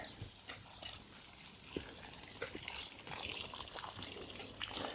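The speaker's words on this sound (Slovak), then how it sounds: "Ukážem vám, ako to vytlačí tú vodu." Water pushed out by a homemade free watering device, heard as a steady gushing, splashing flow with scattered drips, fairly faint and continuous throughout with no talk over it.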